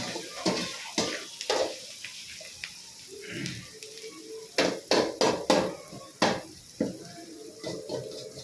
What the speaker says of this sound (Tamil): வெங்காயத்தை நார்மலாக வதக்கணும் காய்ஸ்.